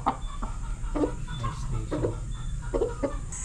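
A Bacolod Eagle 5K Sweater line gamefowl rooster clucks in short repeated bursts over a steady farm background hum, fairly close and moderately loud.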